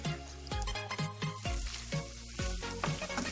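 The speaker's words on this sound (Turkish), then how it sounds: "kızgın yağın içinde hafif açılsın" Ground beef sizzles and crackles in hot oil, a steady close-up frying hiss with repeated sharp pops and spatters.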